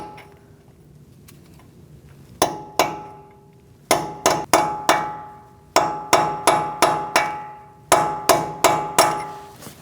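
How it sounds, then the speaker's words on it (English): A hammer striking a cold chisel to peen the axle nut on a 2002-2006 Toyota Camry, sharp ringing metallic blows in quick clusters of two to four, loud and close, each hit decaying briefly. "we're going to peen down the nut using a cold chisel or a punch"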